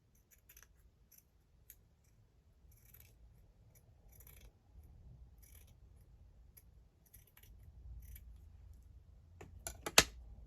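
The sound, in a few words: scissors cutting curly edge off sewing pattern paper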